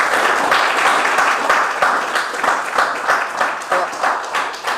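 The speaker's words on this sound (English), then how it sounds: "I want you to give them a big round of applause" A branch meeting audience applauds to welcome Shadow Cabinet members, sustained crowd clapping throughout, fairly loud and even, with slight surges in intensity.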